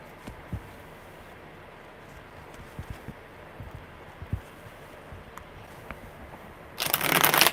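Tarot deck being shuffled during a live card reading: quiet handling and faint taps, then a short, dense riffling burst near the end, close to the mic, with no speech.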